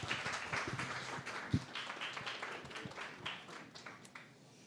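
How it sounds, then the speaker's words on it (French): Audience applause for a speaker at a live Montreal evening event, a steady patter of many hands clapping at moderate distance, gradually fading toward the end. "On peut encore l'applaudir."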